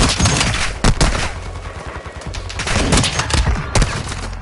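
Rapid gunfire crackles through a squad-based shooter video game firefight, with dense, overlapping bursts and sharp individual shots continuing for the whole stretch at steady, loud intensity.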